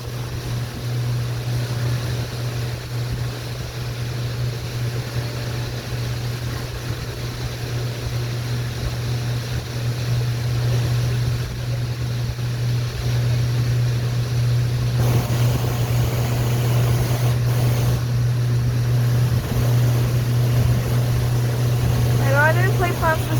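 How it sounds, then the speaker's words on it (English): A boat rides through water in a video game, with a steady engine drone under continuous splashing and wash. It plays at an even level throughout, with a brief burst of extra noise partway through. "Those water splashes, you guys."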